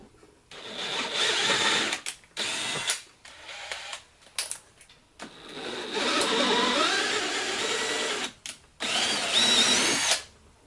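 Bursts of a metal lightsaber part being reamed and threaded on a lathe, the loud machine whir starting and stopping repeatedly in close, uneven runs with brief quiet gaps between.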